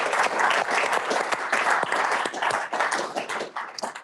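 An audience at a startup variety show bursts into sustained, full applause, many hands clapping loudly and continuously for several seconds before tapering off.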